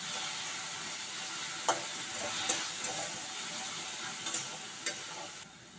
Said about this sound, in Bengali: আমি মশলাটা একটু কষে নেব পেঁয়াজের সাথে